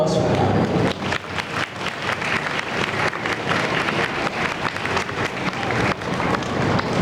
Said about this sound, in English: let us give our parents a round of applause